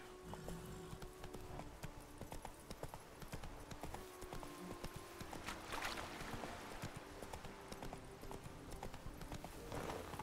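Roach the horse trotting in the video game The Witcher 3, a steady rhythmic clip-clop of hooves throughout, moderately close, with soft tonal background music running underneath.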